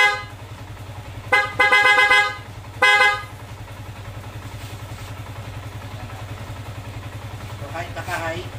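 A motorcycle horn wired to sound with the passing switch gives two short honks, at about 1.3 and 2.9 seconds, over a steady idling engine rumble. A further faint burst comes near the end.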